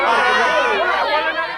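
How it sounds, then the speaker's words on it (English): Street chatter from many people talking at once, a dense, close hubbub of overlapping voices. "noise from people on the street"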